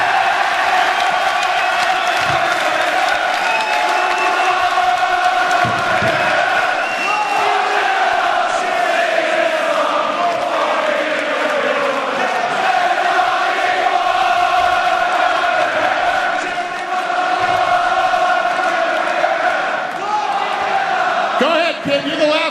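A huge Irish crowd roars and cheers continuously at a press event, a dense wall of chanting and shouting voices that never lets up, with a voice calling out over the noise.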